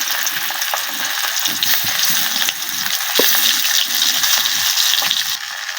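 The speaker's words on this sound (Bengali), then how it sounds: "তেলটা সুন্দরভাবে গরম হয়ে গেছে এখন আমি এখানে মাছ ভাজি করে নেব প্রথমে" Tilapia fish frying in hot oil in a home kitchen, heard as a loud, continuous close-up sizzle with dense crackling and hissing and no talk.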